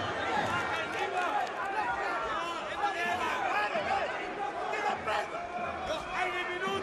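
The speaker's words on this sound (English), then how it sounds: "And look at the crowd here at the Arena Armeyech." Boxing arena crowd at Arena Armeyech during the Kubrat Pulev vs Hughie Fury fight, a steady murmur of babble and chatter running continuously beneath a commentator talking over it.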